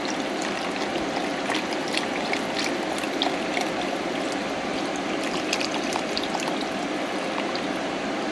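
Vegetable broth pours steadily into a soup pot of potato, leek, carrot and turmeric soup, a continuous close trickling, splashing stream that runs for the whole stretch with no talk.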